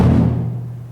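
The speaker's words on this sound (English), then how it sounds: "Bass drum 2, the pitch is kind of in the middle," The middle-pitched drum of a tonal bass drum set is struck once, giving a round, booming note with a sustained low tone that fades gradually over about a second, close and with no talking.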